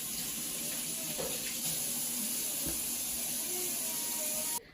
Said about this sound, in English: If you put the onion under the cold water, it won't make your eyes burn as much.